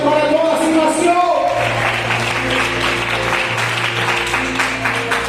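A church congregation applauds during a Sunday-morning Father's Day service, a dense, steady clapping that swells in and keeps going under continuous sustained tones.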